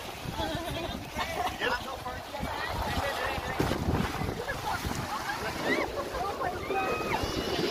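Speedboat ride on open water at a beach resort, with steady wind buffeting the microphone, engine drone and splashing waves throughout, and people talking and calling out over the noise.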